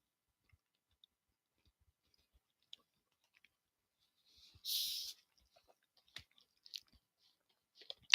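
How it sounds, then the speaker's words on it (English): Someone munching food close to the mic in a quiet room, with sparse soft clicks and crunches and one louder rustly chew midway. "Sorry about the munching."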